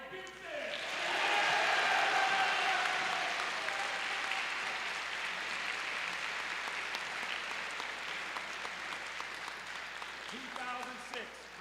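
A round of applause from an audience of gentlemen for a visiting reverend, swelling quickly to a full, steady clatter and easing slightly, with a voice speaking faintly near the end.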